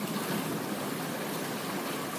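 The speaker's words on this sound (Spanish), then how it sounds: "Las olas saltando por la proa" Waves splash over the bow of a sailing boat under way at close to 8 knots, a steady broadband rush of water and spray that continues evenly throughout with no talking.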